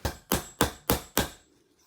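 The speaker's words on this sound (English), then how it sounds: "I'm going to give it a knock with a hammer" Five evenly spaced hammer knocks drive a part into a stainless steel Guarder frame for a Tokyo Marui V10 airsoft pistol, each blow sharp and close with a brief ring-off, then quiet.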